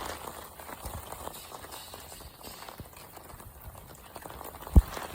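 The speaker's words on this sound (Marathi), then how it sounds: "नुसता पाऊसच पाऊस चाललाय." Steady heavy rain pours continuously, a broad even wash of noise with scattered drip-like ticks and one sharp knock near the end, with no talk over it.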